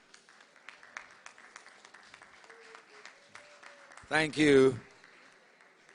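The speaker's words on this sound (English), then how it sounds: "A round of applause" A crowd applauds at the Jamaica Police Federation's 80th anniversary conference: scattered, moderately quiet clapping that gives way to someone speaking briefly.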